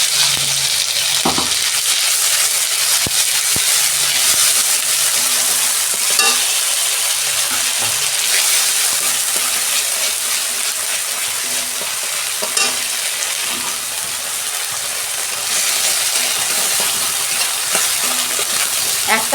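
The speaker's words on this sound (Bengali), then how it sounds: "ওই তেলে আদা রসুনের পেস্ট দিচ্ছি 1 চামচ।" Ginger garlic paste frying in hot oil left from frying fish, a loud steady sizzle and crackle with occasional stirring scrapes throughout.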